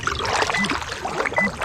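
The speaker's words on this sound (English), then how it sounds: "So if I start paddling" A kayak is paddled on open water, with continuous close splashing and dripping from the paddle strokes, and faint electronic tones sounding through it.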